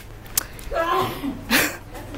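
A single sharp sneeze bursts out near the end, preceded by a brief voice and some light rustling.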